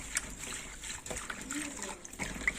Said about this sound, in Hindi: अभी धो लेंगे इस सब को।